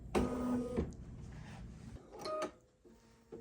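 Bernina 880 plus embroidery machine running in short bursts: a mechanical whirring hum with clicks and brief stops between stitching runs, close and fairly quiet.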